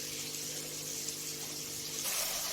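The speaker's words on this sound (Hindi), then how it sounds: "इस तरह इसको दबा दबा के अच्छे से, तो जब पानी बिल्कुल निकलना बंद हो जाएगा मुट्ठी से ऐसे" Water squeezed by hand from washed fenugreek leaves, a close wet trickling and splashing that swells louder toward the end.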